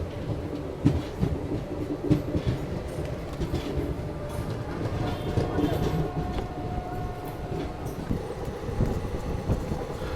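Passenger train running with a steady rumble of wheels and carriage rattle, heard from inside a coach on the Sabarmati–Haridwar summer special, with faint clicks of rail joints and some wind noise.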